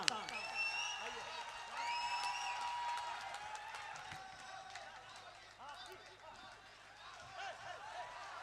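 An audience at a mushaira applauds with a spread of clapping and scattered whoops, fairly distant and fading to thinner clapping toward the end, with voices mixed in.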